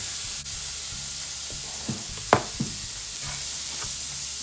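Minced garlic and Tony's Creole seasoning sizzle steadily in a hot pan with shrimp cooking, under a constant bright hiss and a few soft stirring clicks.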